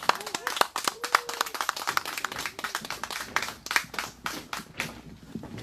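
An outdoor candlelight-rally audience in Seongju gives a brief burst of clapping, close and moderately loud, with a host's voice speaking over the applause.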